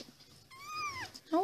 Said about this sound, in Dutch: Kitten is er weer bij.